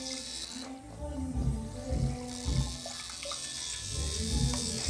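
A mini 3–9 volt DC submersible water pump pushes water upward, giving a steady close splashing and gurgling flow over a faint hum, with small drips and shifts in the stream.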